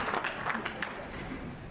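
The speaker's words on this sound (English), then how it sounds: "How about a round of applause for Chris" Audience applause at an awards luncheon, a brief patter of clapping from a moderate crowd that thins out and fades under a low room murmur.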